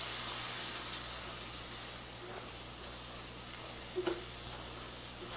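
A pot of Mexican mole sauce with roux being stirred, a steady sizzling hiss throughout, with a couple of faint scraping knocks of the spoon against the pot near the end.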